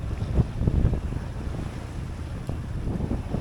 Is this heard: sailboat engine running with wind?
yes